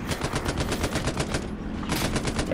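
Rapid, sustained tank machine gun fire in the video game Hell Let Loose, loud and close, a continuous rattling burst with a brief dip near the end before resuming.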